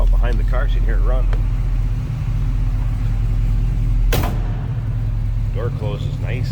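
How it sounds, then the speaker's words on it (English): The door of a 1969 Pontiac Firebird with a 400 engine shuts with a single sharp thud, over the steady low rumble of the idling engine, while someone talks before and after. "Door closes nice and easy."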